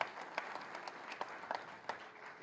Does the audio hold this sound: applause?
yes